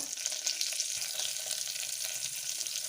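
Mustard seeds and two dried red chillies sizzle in hot oil for South Indian sambar, giving a steady, close crackling hiss with no one talking.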